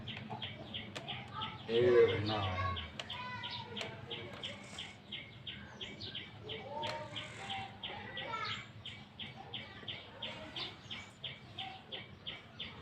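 Birds chirp and tweet repeatedly outdoors in a steady, fairly faint rhythm, with a brief low voice near the start and a chicken-like cluck among the calls.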